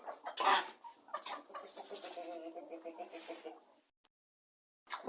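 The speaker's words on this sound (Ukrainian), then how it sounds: "Ось який півник гарний." A rooster and hens cluck in a henhouse, a run of close, throaty clucks and calls that gives way to a brief silence before the clucking resumes.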